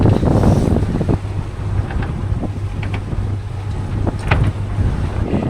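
A sailboat motor sails at sea between Malta and Tunisia against shifting wind, heavy buffeting wind noise over the microphone mixing with low engine rumble and splashing water, loud and continuous.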